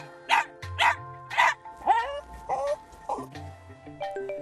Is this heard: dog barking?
yes